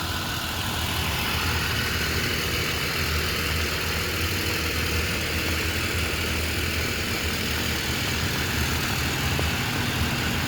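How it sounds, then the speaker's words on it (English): A diesel pump motor runs steadily at a parish pumping station, a constant, moderately close engine drone with low rumble and broadband hiss throughout, no voices. "Can you hear that pump running, that big generator? Not a generator, it's a pump motor."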